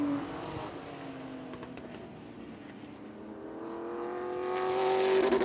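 Distant race car engines drone at Baer Field Motorsports Park during a 2019 Harvest Hustle race, a faint, steady roar that grows louder and rises in pitch as a car approaches near the end.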